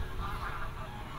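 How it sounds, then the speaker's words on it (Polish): Geese honk in a flock over a river valley's open wetland, a busy, fairly close mix of calls over low background rumble. "Tutaj mieliśmy całe klucze gęsi."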